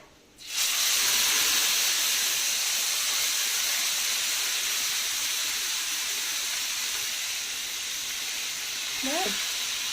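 Liver dropped into hot oil in a heated pan, bursting into a loud, steady hiss of frying that holds close and strong after a quiet start.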